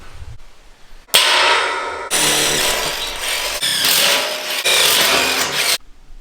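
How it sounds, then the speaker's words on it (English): A power drill bores grate bolt holes through a steel drum for a smoker build, a loud grinding whine that runs about four and a half seconds with slight surges, preceded by brief handling noise. "we got both of our holes drilled for our grate."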